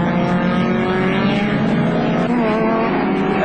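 Loud, continuous roar of touring race car engines at the 1988 ATCC Round 4 at Wanneroo, with layered engine tones overlapping as cars run close by, and no talking.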